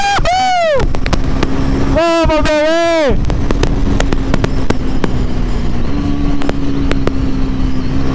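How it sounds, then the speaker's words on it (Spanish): A Pulsar NS 400Z motorcycle revs hard in two rising, falling bursts while lifting into a wheelie, then settles into a steady loud engine drone, with excited shouting over it. "¡Qué cochinada de moto se levanta!"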